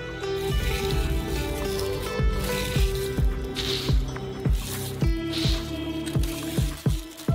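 Puffed buckwheat being folded into a thick filling for a giant homemade Kinder Country bar, heard as a steady run of wet, squishy stirring strokes in a regular rhythm, close and fairly loud over background music.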